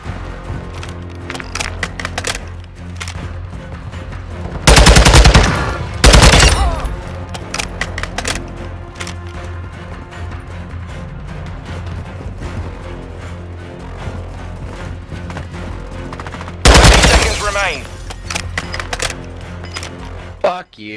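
Gunfire in Call of Duty: Modern Warfare II: rapid automatic bursts and sharp cracks, with two loud, dense volleys standing out above constant game noise, while players talk throughout.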